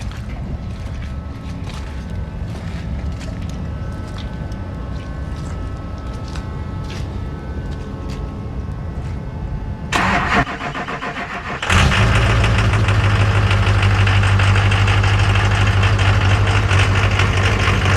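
A Duramax diesel engine in a 1500 truck build with high fuel rail pressure at idle cranks, catches and settles into a loud, steady idle after a quieter stretch of background noise.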